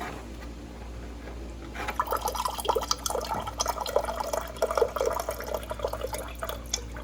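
Hot water runs from a Kolin KWD-BLL-2088B water dispenser into a container, starting as a soft trickle and then becoming a steady close splashing, filling pour that lasts several seconds with no talk over it.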